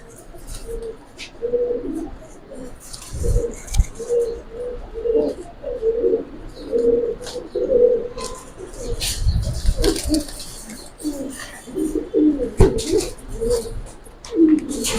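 Giribaz and coloured pigeons coo in a rhythmic series of low throaty calls, with occasional wing flaps and scuffles close by.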